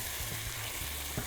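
Chicken livers fry in a pan as they are stirred, a close, soft sizzle with low scraping and stirring sounds.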